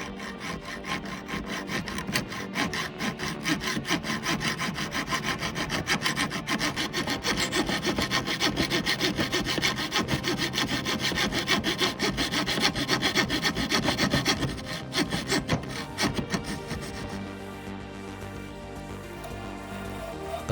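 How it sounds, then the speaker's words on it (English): A handheld keyhole saw cuts through wood between drilled holes for an open-frame PC build, rapid rasping back-and-forth strokes close and steady for about fifteen seconds before tapering into quieter scraping. "now need to connect them with the coping saw. Or should I say, the keyhole saw."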